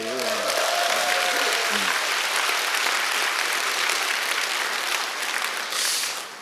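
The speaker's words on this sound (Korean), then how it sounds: "동의하시면 박수를 쳐야지." Audience applause at a Korean lecture on the secrets of the rich, steady dense clapping throughout, with a voice speaking briefly over the start.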